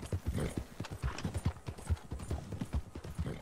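Horse hooves clip-clopping in Red Dead Redemption 2, a quick steady run of close, distinct hoofbeats with no talk over them.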